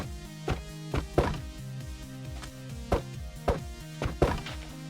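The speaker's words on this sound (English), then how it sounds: "Hitting and destroying armor stands have new sounds." An armor stand being hit and broken in Minecraft 1.9 video game gameplay: a series of short wooden thwacks, roughly seven in under five seconds, heard alone over background music.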